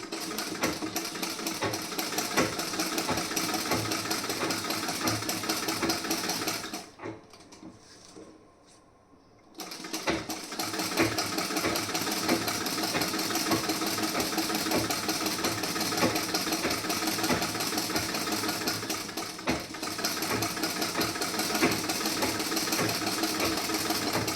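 A sewing machine stitches a blouse piece, running in a steady rapid whir, pausing for a few seconds partway through, then resuming its continuous stitching rhythm.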